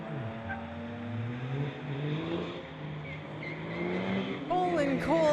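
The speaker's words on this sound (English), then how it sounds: "We got a black truck, a coal roller on the pit side versus the Mercedes." At a street legal drag strip event, a black coal-rolling diesel truck and a Mercedes race, engines rising in pitch as they accelerate away, moderately loud, with an announcer's voice over the engines.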